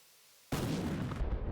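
HIMARS rocket artillery fires in the DCS World combat game: after half a second of near silence, a sudden loud launch blast erupts and continues as a sustained, dense roar to the end, with no talking.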